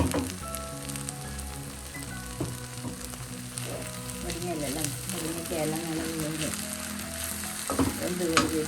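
Drumstick aviyal's coconut paste cooking on a low flame, a dense continuous sizzle and bubbling with occasional stirring clatter under background music.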